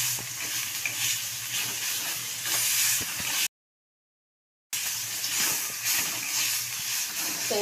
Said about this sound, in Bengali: 1 চামচ চিনি দিলাম, ভালো করে একটু নেড়ে দেব